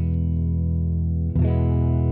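An Ibanez PIA3761 electric guitar on its middle pickup sustains a processed, effect-laden note, then a fresh strum lands near the end, ringing loud and close with no talking.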